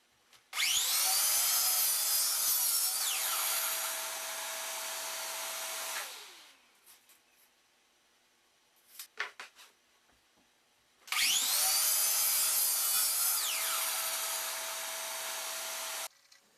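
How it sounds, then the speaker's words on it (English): A miter saw cuts wooden drawer fronts to length against a stop block in two separate passes, each a loud, close, high whine lasting several seconds and then spinning down, with light knocks of handling between the cuts. "Then back at the miter saw, I'll set up my stop block and cut them to length."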